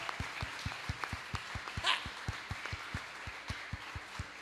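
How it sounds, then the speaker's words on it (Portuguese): A church congregation claps in a steady, even rhythm, many hands beating together at a brisk tempo in a large room, with a brief burst of voices mid-way. "vamos aplaudir ao Senhor Jesus"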